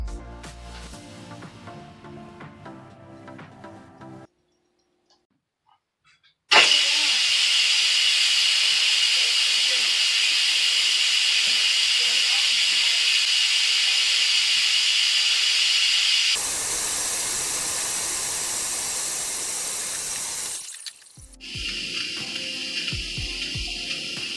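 An Instant Pot venting after cooking pinto beans, its release valve letting out a loud, steady, close hiss of steam that runs for about fifteen seconds, eases slightly partway through, then cuts off, after a quiet pause.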